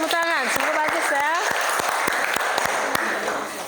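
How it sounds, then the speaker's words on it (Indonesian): A group audience claps together after a classroom presentation, a burst of applause with sharp separate claps that thins out over a few seconds, with a voice speaking over the start. "Oke, berikan tepuk tangan."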